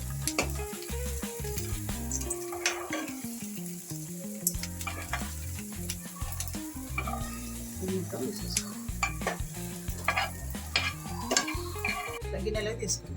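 Coriander seeds, cumin and garlic fry and get stirred in an oil pan while preparing a spinach-onion chutney, giving a steady close sizzle with frequent scraping stirs and light pot clatter throughout, over a pitched background tone.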